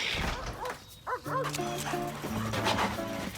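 A dog in a Fresh Pet dog food advert gives a few short yips and barks, with people talking over it and background music.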